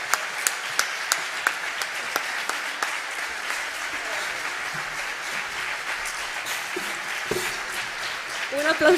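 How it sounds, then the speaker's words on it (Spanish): Applause from a concert audience rises through a dense, steady wash of clapping with a few sharper claps standing out, while voices murmur underneath and the noise grows slightly at the end. "Un aplauso grandísimo"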